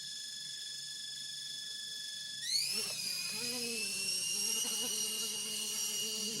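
A small drone's motors hum at low throttle, a steady high-pitched whine with layered tones that rises slightly and holds, heard close with no talking.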